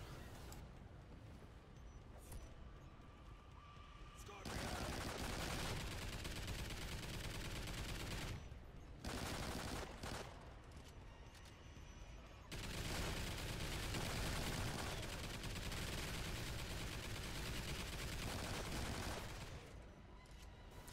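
In Call of Duty Extinction, twin sentry guns pour out sustained automatic fire in long loud bursts, broken by brief pauses, over roughly twenty seconds of continuous shooting.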